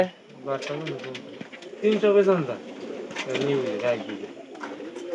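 Soft, rolling coos from pigeons close by, a few repeated calls with quiet voices underneath.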